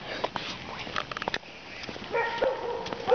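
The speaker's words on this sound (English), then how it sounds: "That dog has a big voice." A dog barks in a video game, a few sharp, loud barks in quick bursts over game sounds, with people talking over it.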